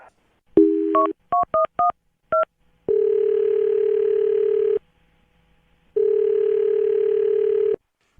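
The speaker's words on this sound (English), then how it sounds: "I'm going to dial his phone number right now" Several short two-tone touch-tone beeps in an uneven sequence, then two long steady dial-type tones separated by a brief silence, clear and close.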